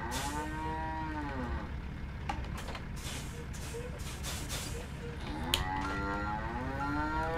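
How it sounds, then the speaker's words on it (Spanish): In a truck-driving video game, cattle give two drawn-out moos, one at the start and one near the end, heard over a constant engine-like rumble and scattered clatter. "¡Ey, las vacas!"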